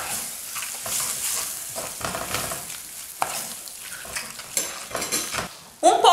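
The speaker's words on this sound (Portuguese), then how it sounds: "Agora eu acrescento 2 tomates picadinhos aqui. Uma colher rasa de sopa de colorau." Shrimp frying with chopped tomatoes and a spoonful of colorau for a moqueca, stirred in a pan: steady loud sizzle with repeated scrapes and utensil clinks, ending in a sharp clatter.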